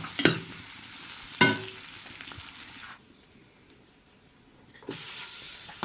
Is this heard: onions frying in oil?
yes